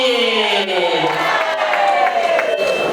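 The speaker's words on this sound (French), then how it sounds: "Monsieur Bokeposia Riquet, sous vos applaudissements, nous voulons entendre vos cris de joie." Wedding party guests cheer and shout with joy, a loud, continuous crowd roar with whoops and voices layered over music for the full three seconds.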